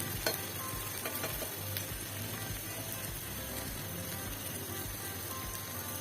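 Spinach frying in a pan with garlic, onion and green chili gives a steady, close sizzle with faint stirring scrapes throughout, no voices over it.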